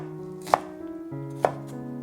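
A knife chops a small shallot on a cutting board in two sharp, distinct strikes about a second apart, close and clear against a quiet kitchen hum.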